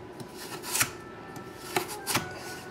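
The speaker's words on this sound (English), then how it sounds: "the easiest way I have for cutting up a carrot, cut down the side like so" A kitchen knife cuts down the side of a carrot, making a few soft, close slicing and chopping strokes over a faint background hiss.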